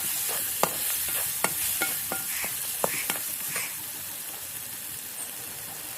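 Thin potato slices with onion, tomato, turmeric and salt cook in a pan with a soft, continuous sizzle, broken by scattered sharp clinks of a spoon stirring. No one speaks.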